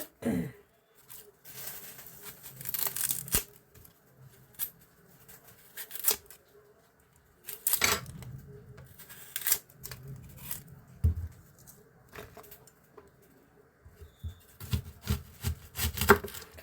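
Knife work on an onion being prepared for cooking: irregular wooden taps, scrapes and rustling of papery skin on a cutting board, close and fairly quiet with pauses between bursts.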